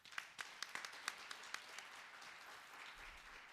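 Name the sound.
audience applause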